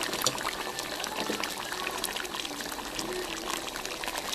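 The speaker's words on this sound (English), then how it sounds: "I'm going to add another cup of water." Water pours steadily into a cooking pot while a chicken dish simmers, a continuous splashing wash of fairly close, moderate loudness with no talking.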